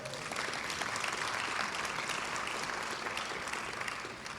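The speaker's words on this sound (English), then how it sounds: "Let's give a round of applause for that." Audience applause at a ribbon cutting for the grand opening of the Frank J. Guarini Justice Complex in Jersey City, a dense, steady wash of many hands clapping at once, fairly distant and even throughout.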